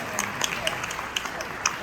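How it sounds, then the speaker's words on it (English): An audience at a shareholders summit applauds a panel, a dense wash of clapping with sharp individual claps popping out near the microphone, sustained across the short stretch. "a huge round of applause for all the members of the panel"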